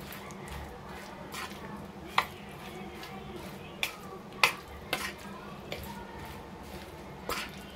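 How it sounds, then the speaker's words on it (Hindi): Jackfruit pickle being stirred and mixed with leftover spices in a pot, with soft continuous scraping and occasional sharp spoon knocks against the vessel, close and fairly quiet, no talk. "जो बचे हुए मसाले हैं ना उसको भी इसमें हम ऐड कर देते हैं। अच्छे से इसको हम मिक्स कर देंगे।"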